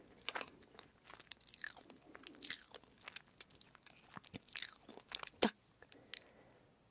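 Homemade butter cookies are bitten and chewed close to the microphone, with crisp crunches and irregular snaps over soft mastication in a quiet room.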